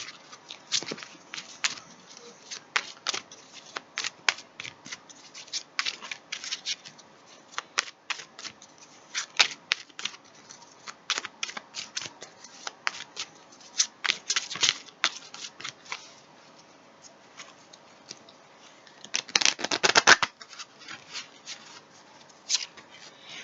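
Tarot cards shuffled by hand up close, repeated quick riffling flutters and soft slaps in irregular bursts, with a longer, denser riffle near the end; no speech.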